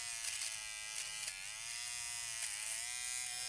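A small electric trimmer clipping nose hairs gives a steady high-pitched buzz, close and continuous, with slight wavering as it moves against the nostril.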